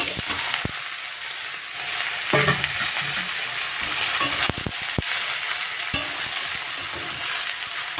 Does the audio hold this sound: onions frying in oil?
yes